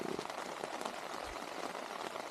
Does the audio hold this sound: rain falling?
yes